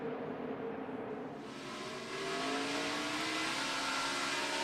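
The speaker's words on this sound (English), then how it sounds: "riding along with Carl Edwards here. See him get through the gears" A NASCAR stock car at the 2008 Pep Boys Auto 500 roars loudly up through its gears, the engine pitch climbing and dropping with each shift in a steady onboard ride-along, with no talk over it.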